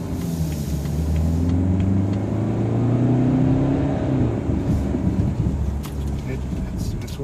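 A 2015 BMW X3 28d diesel SUV accelerates uphill in comfort mode, its low engine rumble and drivetrain whir steady and rising slightly from inside the cabin, with road noise throughout.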